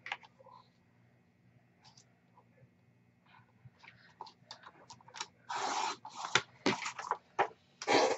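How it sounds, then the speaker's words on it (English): Paper trimmed to size for a mini album: faint clicks and small scrapes first, then several loud, close bursts of slicing or scraping near the end. "Let me go ahead and cut this off."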